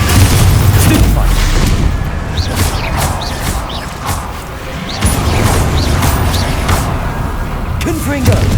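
Confringo fire-spell explosions during combat in Hogwarts Legacy, heard as repeated heavy booms and crashes throughout, loud and close, mixed with shouted speech and other spell effects.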